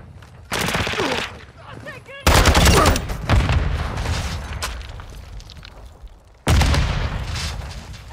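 A grenade blast in Call of Duty MW2 amid a firefight, with sharp booming bursts and rattling gunfire layered over continuous battle noise and shouted voices, loud and close.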